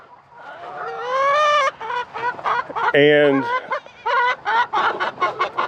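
Chickens cluck and squawk close by, a run of loud, rising calls followed by short choppy clucks, with a brief word spoken among them.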